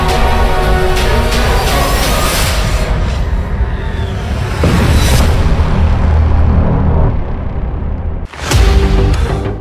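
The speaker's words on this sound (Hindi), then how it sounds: "मिसाइल टैंक की तरफ बहुत तेजी से बढ़ती है और इजराइल के मरकावा में बहुत बड़ा धमाका होता है।" An anti-tank missile strikes an Israeli Merkava tank near the Lebanon border, a loud sustained roaring blast with rumbling booms, briefly dropping out before another sharp burst near the end.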